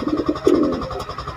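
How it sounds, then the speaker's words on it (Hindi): A pigeon coos softly in low, throaty bursts, a few short notes then one longer rolling coo, close by. "कबूतर गुटकता है"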